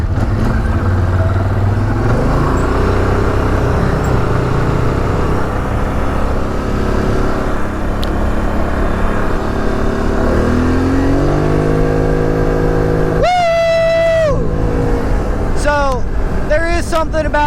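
A side-by-side off-road vehicle runs along the Devil Anse trail on Buffalo Mountain, its engine droning steadily up close and surging as it revs and shifts, with a sharp whining pass near the end.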